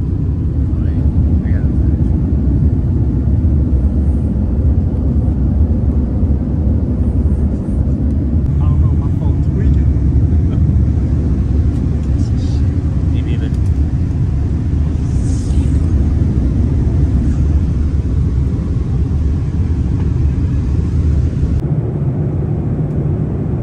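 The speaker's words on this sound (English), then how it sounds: "Just landed in Changi Airport" An airplane touching down and rolling out at Changi Airport, a loud continuous low rumble of engines and cabin noise throughout, with faint scattered voices beneath.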